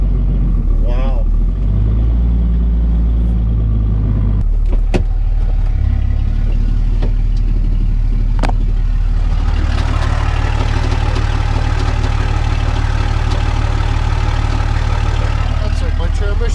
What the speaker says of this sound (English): That's like my transmission flying apart right there, boys.